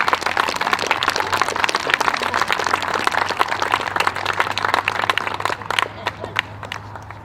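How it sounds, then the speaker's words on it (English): Steady, loud applause from a crowd for the Boutte family at a baseball league opening day ceremony, dense clapping that carries on and thins toward the end. "Another round of applause, please,"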